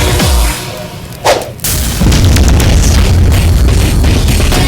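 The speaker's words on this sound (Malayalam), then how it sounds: "ഏതോ ഒരു ബാക്ക്ഗ്രൗണ്ടിൽ ബോംബൊക്കെ പൊട്ടണ സീനിലൊന്നും സൽമാൻ ഖാൻ" A bomb explodes in a Salman Khan action film scene, a sharp boom with a whooshing burst, followed by a sustained low rumble of debris and roar that fills the rest of the moment.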